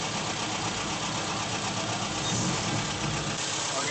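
A car's combustion engine idles steadily and close by while water is fed through a funnel into the intake to decarbonise it, a continuous even hum with no revving.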